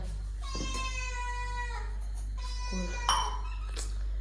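A cat meows a few times, with rising and falling cries, over a steady low electrical hum.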